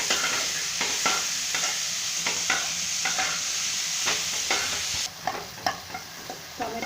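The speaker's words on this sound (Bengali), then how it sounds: "ক্যাপসিকাম আর টমেটোটা একটু ভাজা ভাজা হবে।" Capsicum and tomato frying in a pan for a paneer dish, a continuous close sizzle punctuated by repeated sharp scrapes and knocks of a spatula stirring at an uneven rhythm.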